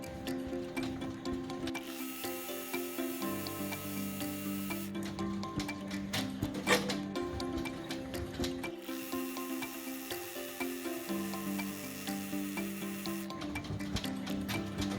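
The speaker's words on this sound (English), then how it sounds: "we're going to run our decorative top stitching for this applique portion" An embroidery machine runs decorative top stitching around the applique on a fabric garden flag, a rapid, even mechanical needle chatter with a steady hum that pauses and restarts in regular cycles, nearby and without talk.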